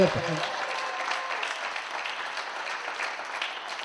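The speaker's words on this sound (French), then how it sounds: "J'aimerais remercier le public. On s'applaudit." An audience applauds at a local community show: a dense, continuous wash of clapping that holds at a steady level throughout, with a brief low thump at the very start.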